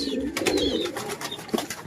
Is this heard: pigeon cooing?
yes